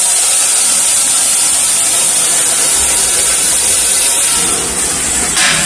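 A coffee roaster drum spins loaded with 25 pounds of Fierce beans, giving a loud, continuous whirring rush with a gritty tumbling texture that stays even throughout.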